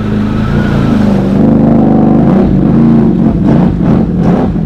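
A Can-Am Renegade 1000 ATV on 32-inch Nator tires revs hard in mud, a loud, close, sustained engine roar with surging throttle and churning tire noise.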